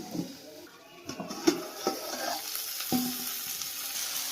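Tapioca pearls (sabudana) fry in a pan on low gas for sabudana khichdi, a soft steady sizzle with a few scrapes and clinks of stirring close by, no voices.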